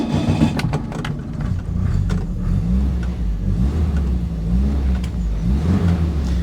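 A Triumph 1300 front-wheel-drive car engine idles and revs steadily up close, a continuous low mechanical rumble with rising and falling pitch running through the whole stretch.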